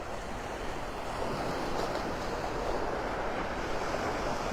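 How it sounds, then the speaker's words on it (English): On Vanderbilt Beach in North Naples, Florida, surf rolls in with a steady broad wash while wind buffets the microphone, a constant wall of sound with no voices. "I'm about in the middle of Vanderbilt Beach by La Playa."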